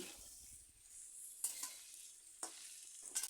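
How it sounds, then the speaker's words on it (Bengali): Cauliflower and potatoes fry in hot oil in a pan with a constant soft sizzle, while a spatula scrapes and flips the pieces in a few sharp clattering strokes, close and without talk. "এদিকে আমি যে ফুলকপি আলু বাজা বসিয়েছি তা উল্টিয়ে দিচ্ছি"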